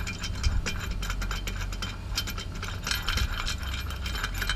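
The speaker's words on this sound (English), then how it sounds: "So we'll go ahead and torque it down to 30 pounds." A wrench ratchets the secondary clutch bolt of an STM clutch on a Can-Am, making a steady, close run of rapid mechanical clicks with no talking.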